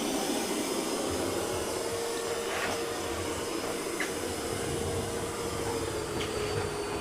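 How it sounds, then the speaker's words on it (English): A robot vacuum runs on carpet with its suction raised, a steady, loud whirring roar that holds evenly throughout with no breaks. "it also increases the suction power"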